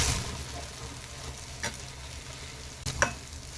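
An egg omelette fries in a pan with a soft, continuous sizzle, broken by a few brief scraping clatters as it is turned over, heard up close with no one talking.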